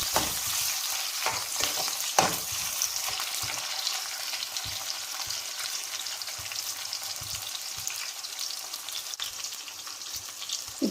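Onions frying in a pan, a continuous bright sizzle with occasional stirring scrapes and soft knocks, close and steady throughout.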